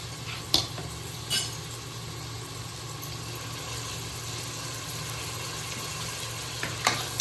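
Green chillies and curry leaves fry in oil for a chicken gravy, a low steady sizzle close by with a few brief utensil clinks and stirring scrapes, no voices present.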